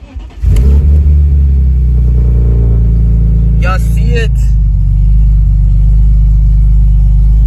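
A BMW E46 M3 fitted with headers and an aftermarket intake fires up and settles into a loud, deep, steady idle close by, with a voice speaking briefly over it.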